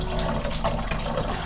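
Water draining noisily through a pressurized system with the pump still running, a steady close rushing wash of liquid with no talk.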